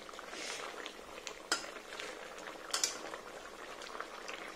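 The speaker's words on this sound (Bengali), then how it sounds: "চলো মাছটার সাথে একটু ভালো করে ফুটে যায়, তারপর নামাবো।" A pot of chicken curry gravy with fish simmers on the stove, bubbling softly and steadily, with a few sharp clinks of utensils against the pot.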